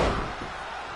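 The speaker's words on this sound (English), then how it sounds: "clothesline. Elbow drop." A heavy slam from an elbow drop in a PS4 wrestling video game, one loud impact at the start fading into a roomy, sustained crowd-like wash.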